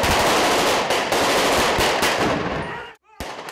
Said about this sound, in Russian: Только здесь ты по-настоящему глохнешь от выстрелов, и в тебя летят стреляные гильзы.